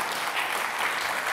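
Dense, steady audience applause from a television talk show studio crowd fills the short moment, loud and continuous with no talk over it.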